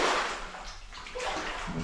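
Feet wading through cold, shin-deep water underground near old rail, with uneven sloshing and splashing surges up close.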